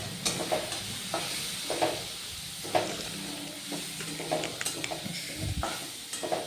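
Potato and chicken filling with tomato and Maggi masala being stirred in a pan for Mughlai paratha, a utensil scraping in repeated strokes over a soft, steady sizzle, close and moderately quiet.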